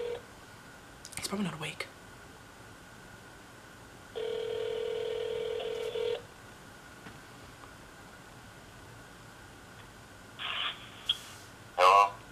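A mobile phone call is dialed and rings, with two long steady ringback tones separated by a quiet pause, sharp short beeps and a brief spoken remark near the start.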